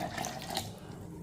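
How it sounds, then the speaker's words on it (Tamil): Water poured into a mixer jar while making a weight loss juice drink, a soft, steady trickling splash heard close and alone. "தண்ணி ஊற்றிக்கிடுவோம்."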